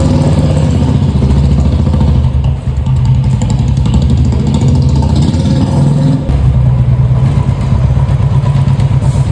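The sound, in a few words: Royal Enfield Classic 350 motorcycle engine running and riding off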